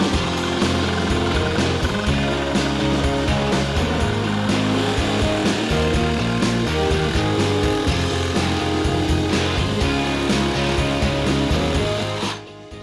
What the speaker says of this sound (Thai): ทีนี้ลองทดสอบนะครับกับการตัดเหล็กดูบ้างนะครับ